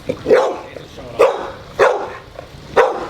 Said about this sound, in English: Wow, Hayes, what a ferocious dog. Yeah. Wow, good bark.